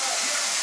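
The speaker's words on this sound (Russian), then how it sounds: "здесь у меня жарится тилапия" Salmon and tilapia frying in a pan, with a steady, close, loud hiss and sizzle of hot oil that continues without a break.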